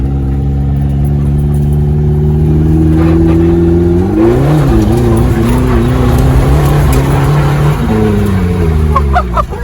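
Turbocharged Mazda Miata engine revving hard and unevenly while drifting, loud and close with the pitch rising and falling throughout, tire and exhaust noise mixed in.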